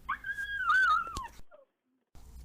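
A small dog lets out a high whining yelp that rises and wavers for about a second, close and clear, followed by a brief silence.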